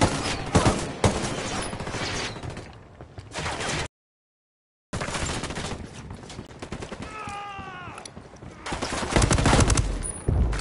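Gunfire in a PS4 video game, where dense bursts of automatic fire and rattling volleys fill the scene, drop out briefly to silence, then resume with more shooting and game effects.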